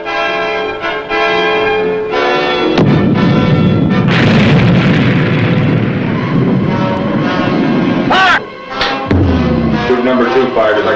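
Submarine torpedoes launching in the Silent Service naval game, a heavy rumbling whoosh and booming low roar that swells and carries on, with a short break before resuming, layered over droning tonal hum.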